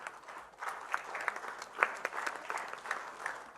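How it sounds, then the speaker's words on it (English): Steady applause from a crowd, many hands clapping continuously at moderate volume with a few sharper claps standing out. "keep the applause rolling"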